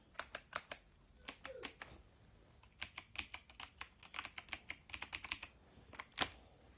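Keys clacking on a budget gaming keyboard with Cherry MX clone blue switches, bursts of sharp close clicks in quick uneven runs with short pauses between.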